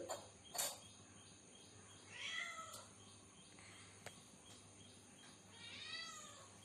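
A cat meows several times, short plaintive cries a few seconds apart, moderately close against a quiet, low background hum.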